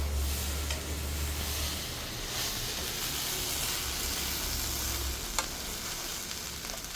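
Raw banana fry being stirred in a hot pan after three tablespoons of chili powder go in, a steady close sizzle with scraping stir sounds running throughout, no voices.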